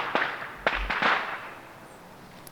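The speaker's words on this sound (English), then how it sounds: "somebody starts shooting off fireworks nearby" Fireworks go off nearby during the final round of a women's disc golf championship outdoors: a few sharp, loud cracks and pops in quick succession, then fading into quiet ambience.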